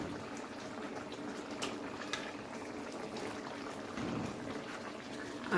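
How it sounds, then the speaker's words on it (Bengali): Bengali curry broth for a drumstick, potato and eggplant dish bubbling in a pot, a faint steady simmering hiss with soft bubbling throughout, no talk. "দেখুন ঝোলটা কিন্তু খুব সুন্দরভাবে ফুটে গেছে।"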